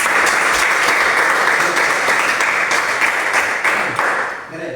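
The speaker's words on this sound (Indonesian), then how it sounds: "Ya, tepuk tangan untuk Fandi." Classroom applause from a group of students, loud, sustained clapping that holds steady and then tapers slightly near the end, close by with no talking over it.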